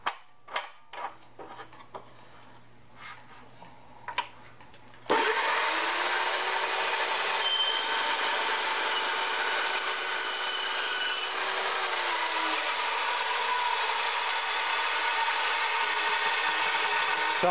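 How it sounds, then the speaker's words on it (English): A Jepson dry cut saw slices through aluminum stock in one long, loud continuous cut with a steady high whine, preceded by a few brief clicks and knocks as the metal is set up. "Got some aluminum here"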